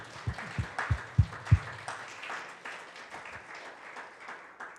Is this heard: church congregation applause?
yes